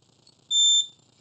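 A single short, high-pitched electronic beep from the alarm button on the remote of an Airwheel ride-on smart luggage scooter, close and clear over a quiet background.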